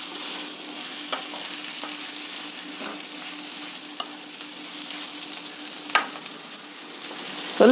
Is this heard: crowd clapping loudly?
no